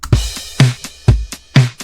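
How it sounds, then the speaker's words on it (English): A punchy drum groove loops with deep booming kicks, crisp snares and busy hi-hats, loud and close, blending acoustic and electronic character. "The full drum loop sounds like this."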